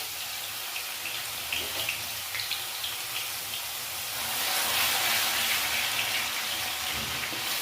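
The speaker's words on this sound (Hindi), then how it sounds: "अब डाल देंगे यहाँ पे लहसुन, और लहसुन को अच्छे से भून लेते हैं।" Garlic frying with cumin in a hot pan, a steady broad sizzle and hiss that swells slightly louder partway through, with faint stirring scrapes and no talking.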